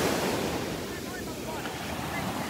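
Ocean waves break and wash onto a beach in North Naples, Florida, a continuous close rushing surf roar with wind buffeting the microphone.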